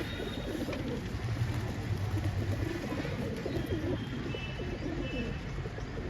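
A pigeon coos in soft, repeated low murmurs close by, with faint chirps and a steady background hum around it.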